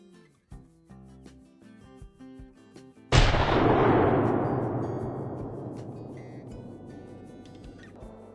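In the Call of the Wild hunting game, a shotgun slug is fired at a mule deer buck: a single sharp, loud blast with a long rolling echo that fades, after faint scattered clicks and game sounds.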